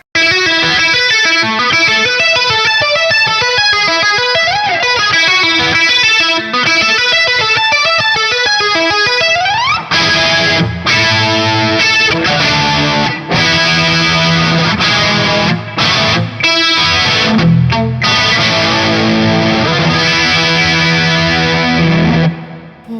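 Distorted electric guitar drenched in a shimmering Boss chorus effect with a little amp reverb, playing continuously with chords and riffs for the whole stretch.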